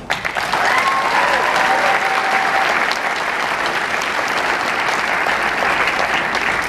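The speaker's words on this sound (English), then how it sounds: "we thank you dearly with a big round of applause" A graduation audience applauds teachers at a 2017 valedictorian address, with loud, dense, sustained clapping filling the whole stretch and a faint voice or tone briefly rising near the start.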